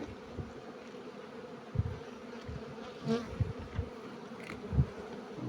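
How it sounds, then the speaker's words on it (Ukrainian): Honey bees buzz around an open hive in spring, a continuous faint hum with occasional closer passes of individual bees. "Зараз ми глянемо скільки нас тут бджілок посідає."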